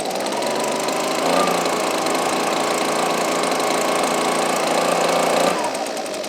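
A brand-new Husqvarna 125B leaf blower with a replaced coil runs at half choke, its small two-stroke engine buzzing loud and close in a steady drone that rises briefly before dropping off near the end.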